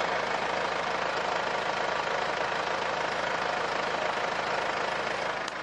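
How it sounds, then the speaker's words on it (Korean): A Mercedes-Benz CLS 4Matic diesel engine idles steadily, a constant rough rumble with a knocking texture, close and unchanging throughout. "바로 엔진 소리 한번 들려드릴게요."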